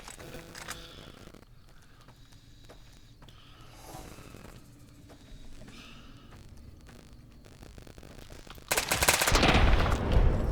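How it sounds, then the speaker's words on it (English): An M4 rifle in Fallout New Vegas fires as scattered bursts of sharp shots, then a sustained loud barrage near the end, with clattering game sounds between volleys and no speech. "Damn, I just melted them with this M4."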